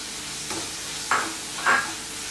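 Green chillies sautéing in a masala base in a pan, a soft steady sizzle with a few brief scraping stirs of a spoon, close and fairly quiet, no voices.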